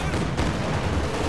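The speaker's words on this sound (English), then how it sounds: "the very first volley of rockets wipes a Volksgrenadier squad" A Katyusha rocket barrage in Company of Heroes slams down in a short, dense burst of overlapping blasts and crackling impacts, loud and continuous throughout.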